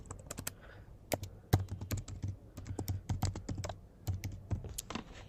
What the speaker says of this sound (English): I'm going to hit T on my keyboard, and I'm going to type shop our collection